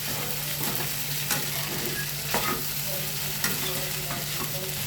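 Sabudana khichdi is stirred in a hot pan with salt, a steady sizzle broken by a few distinct scraping strokes of the spoon at regular intervals.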